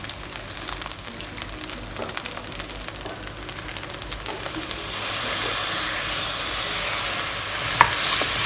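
Fried rice seasoned with light soy sauce is stirred in a pot, with quick scraping strokes over a hissing sizzle that swells louder in the second half, close, no voices.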